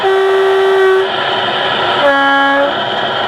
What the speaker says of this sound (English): Sound a horn.